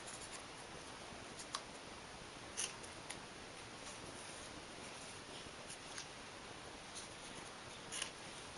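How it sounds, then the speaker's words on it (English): Scissors snipping the ribbon ends off a bow on a party favor treat box, a few faint, close clicks and snips spread irregularly over a quiet hiss. "go ahead and cut the ends off"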